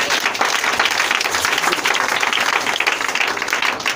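A church congregation claps and applauds during a French-language worship service, a dense, steady wash of many hands sustained loudly throughout with faint voices mixed in.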